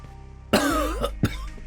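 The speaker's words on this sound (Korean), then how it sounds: "난 기침을 내뱉었고" A single sharp cough bursts out close by, followed moments later by a second shorter one, with quiet room tone between.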